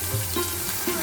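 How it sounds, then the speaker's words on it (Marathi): Chopped onions sizzle in hot oil tempered with turmeric for a moringa drumstick curry, a soft steady crackle with a few stirring scrapes in a short burst, no voices. "कांदा चांगला परतून घेते"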